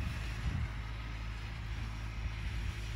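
Old MTZ tractor running with front and rear mowers during haymaking, a continuous low engine rumble with wind noise over the microphone, steady and unbroken for the whole stretch.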